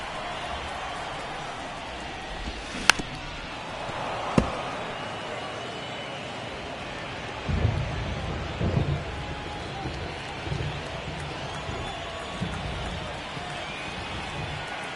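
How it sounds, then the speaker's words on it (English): Rain falls steadily throughout a baseball video game, with a few sharp cracks and low rumbles of thunder breaking through the constant hiss at moderate loudness. "It feels like we might be headed towards a rain delay if the weather doesn't ease up, Chris."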